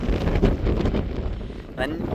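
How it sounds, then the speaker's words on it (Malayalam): Strong wind buffets the microphone in a low, continuous roar with gusty surges on a misty hillside in Idukki, and a voice speaks briefly under it. "നല്ല കാറ്റ്."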